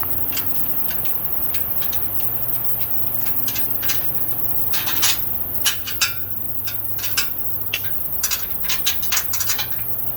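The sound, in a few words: tightening bolts on a greenhouse roof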